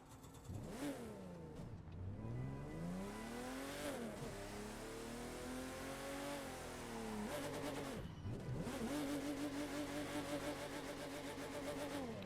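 Engine of a 1993 Porsche 911 Turbo 3.6 in The Crew 2, revving up and down through repeated gear shifts, loud and close with a steady roar throughout.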